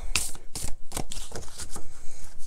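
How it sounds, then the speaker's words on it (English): A pile of large color-coded cards is shuffled, giving a quick run of sharp, close riffling clicks and flutters in an uneven rhythm across the whole stretch, with no voices. "So I shuffled the pile."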